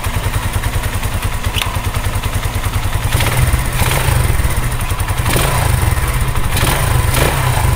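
A Chinese 150cc enduro dual-sport motorcycle kick-started after an oil change, its single-cylinder engine catching and running with a loud, close, rapid putter that roughens midway, no speech.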